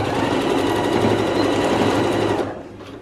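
A sewing machine stitches a trouser pocket, running at a loud steady whir close up for over two seconds and then slowing to a stop.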